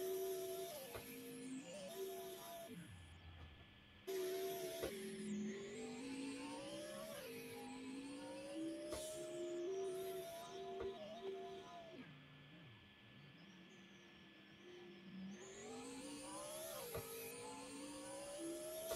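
A truck engine in the video game Car Dealership Tycoon revs up and down repeatedly while drifting, rising and falling whines layered with game noise, fairly quiet and without talking.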